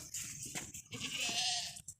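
A Makhi Cheeni goat bleats nearby, a short wavering cry amid scuffling and background noise at a goat market.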